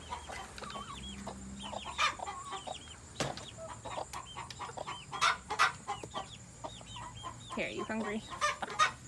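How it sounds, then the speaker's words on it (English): Baby chicks on a homestead cluck and peep repeatedly at close range, a steady chatter of small calls while a person speaks briefly to them. "that is an update on the baby chicks"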